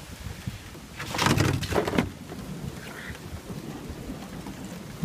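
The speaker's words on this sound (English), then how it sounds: "Downpouring alright." Heavy downpour during a severe thunderstorm in Newburyport, Massachusetts, with a steady hiss of rain and a loud rumbling thunder crash in the first seconds that fades back into the rain.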